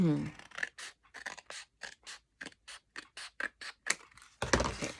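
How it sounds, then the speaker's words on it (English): Scissors snip through a paper bag for a simple handmade journal, giving a quick run of short, crisp cuts at a steady rhythm. A louder rustle of paper comes at the end. "I can use my cutter, but I can also just use my scissors"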